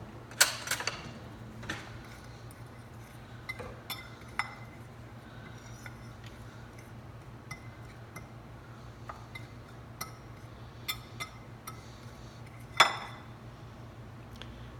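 A fork stirs dry spices, garlic powder and paprika, in a bowl, giving quiet scattered clinks and scrapes with a few sharper taps, close and alone over a low steady hum.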